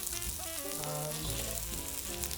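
Onions sizzle and fry continuously in a pan as they are stirred to caramelize for a king prawn biryani, with a dense, close crackle and faint scraping throughout.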